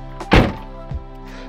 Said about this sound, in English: The doors do carry an amazing amount of weight to them though, and they close with a very satisfying German thud.